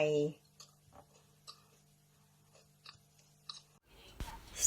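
Bites into a crispy banana pancake, several faint crunchy chews spaced out over near silence, with a voice briefly at the start and a louder noise at the end.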